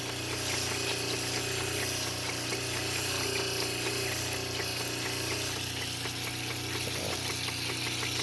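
Lapidary grinding wheels with new grit cut a large Montana agate cabochon, making a steady, loud motor drone with a continuous gritty hiss. The sound runs unbroken throughout with no talking.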